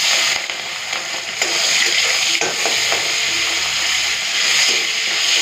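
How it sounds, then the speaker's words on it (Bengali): Shrimp crackle and sizzle steadily in hot oil already used to fry garlic and dried red chillies, a close, continuous frying hiss with occasional stirring clatter. "ওই তেলে চিংড়ি মাছগুলো ভেজে নেব।"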